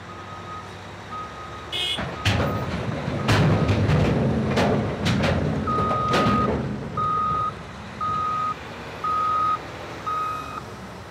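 A Cat K Series large wheel loader works with heavy engine noise and clanking, several loud bangs of rock being handled, then a steady series of evenly spaced reversing beeps repeating alone near the end.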